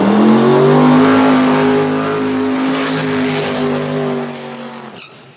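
Small-tire drag racing car doing a burnout at a drag strip, a loud sustained engine roar with steady harmonic drone and tire noise, fading slightly before cutting off near the end.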